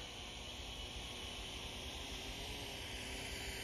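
A Syma X8HC quadcopter drone flies nearby, its rotors producing a steady, even high-pitched whir and hum that holds constant throughout, with no talking over it.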